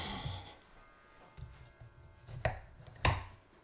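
A knife chops down through a tray of homemade brownies, giving two sharp, close cuts near the end, with softer scraping and handling sounds before them.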